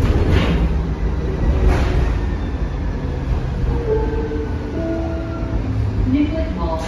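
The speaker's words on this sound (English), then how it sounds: "This is a Blue Line train to Mall of America." Continuous low rumble inside a Metro Blue Line light rail train running toward Mall of America in Minneapolis, steady and fairly loud, with faint high whines and squeals. An announcement voice can be heard over the rumble.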